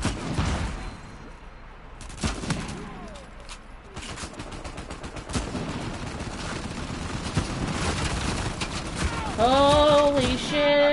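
Bursts of rapid gunfire in an online shooter video game, loud and dense over several seconds with a continuous game soundscape underneath, ending in a rising electronic tone.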